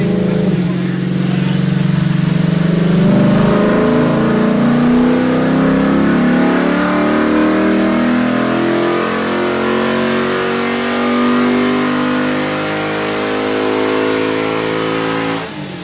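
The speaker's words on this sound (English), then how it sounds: "It sounds like a V8." A 2008 Lexus IS-F with a 5.0 V8 revving hard on a dyno pull, a loud close engine note rising steadily in pitch, then holding near the top before easing slightly at the end.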